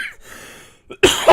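A single sharp cough bursts out at the end, loud and close, after a stretch of quiet breathy sound.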